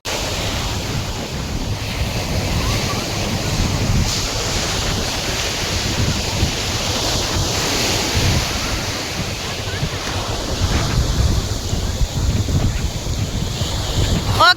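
Sea waves wash steadily onto a beach in a loud, continuous roar, with gusting wind buffeting the microphone throughout.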